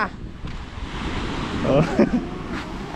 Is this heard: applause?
no